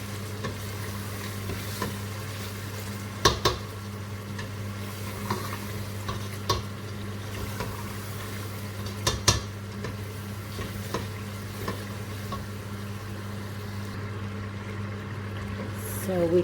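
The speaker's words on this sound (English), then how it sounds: "We could give this a good mix and further cook this for 3 minutes." Chicken keema sizzles in a pot over medium heat while a spoon stirs it, with a steady frying hiss under occasional scrapes and clinks.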